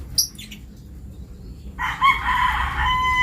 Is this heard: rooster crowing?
yes